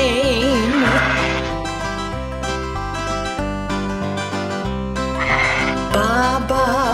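A children's nursery-rhyme song about a black sheep, with bleating sheep-like sounds woven into a loud, continuous musical backing with sustained tones and a steady beat.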